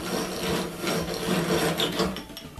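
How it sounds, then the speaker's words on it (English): A Miller's Falls breast drill countersinks holes in a metal plate, giving a steady, close scraping rasp of cutter on metal that runs continuously with slight pulses as the crank turns. "I take this Miller's Falls breast drill and just countersink those holes."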